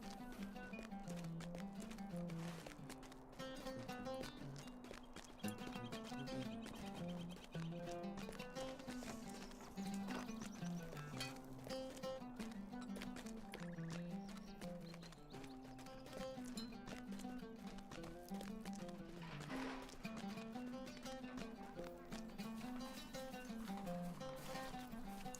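Horse hooves clip-clop steadily while riding in Lord of the Rings Online, heard under a continuous bed of orchestral game music.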